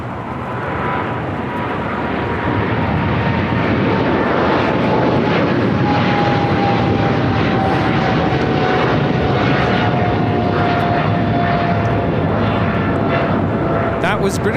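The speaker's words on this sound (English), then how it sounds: "Was British Airways 282 taking off to London Heathrow on the 777-300ER." British Airways Boeing 777-300ER roaring on takeoff from LAX bound for London Heathrow, a loud sustained jet-engine blast with a faint whining tone gliding slowly downward, steady throughout.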